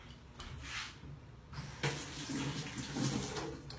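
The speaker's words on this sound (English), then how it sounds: "basically I'm going to top it off with water and it's ready to go" Water runs from a tap to top off a homemade spray bottle of beach wave or after-sun spray mixed with fractionated coconut oil and essential oils, a steady close splashing rush that pauses briefly and then resumes.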